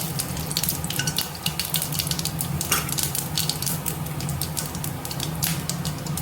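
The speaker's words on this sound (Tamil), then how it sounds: "எண்ணெய் காஞ்சிருச்சு, கடுகும் அடிச்சிருச்சு" Mustard seeds crackle and splutter in hot oil for a Tamil-style beetroot and green pea side dish, a dense, steady sizzle with sharp popping bursts throughout, close and loud with no voices.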